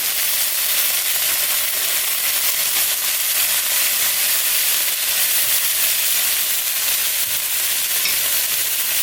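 Vegetables hitting a hot pan with minced ginger, a loud, steady, close frying sizzle with bright crackling hiss that holds without pause throughout.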